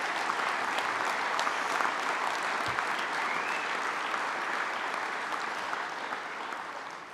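Sustained applause from a convention audience at a union general convention, dense steady clapping from a large crowd lasting about seven seconds and slowly tapering at the end, with no talk over it.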